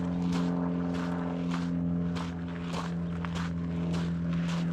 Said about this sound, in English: And unfortunately there's a